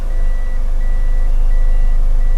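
An automatic car shifted into reverse sets off a sharp electronic beep, repeating in evenly spaced pulses over a steady low engine hum, close and clear with no talking.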